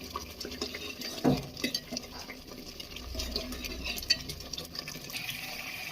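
Spoon scrapes and soft sizzling come from a pan of tomato, chili, onion, garlic and ginger paste being stirred and fried in oil for chole, a steady close clatter with one sharper knock, no voices.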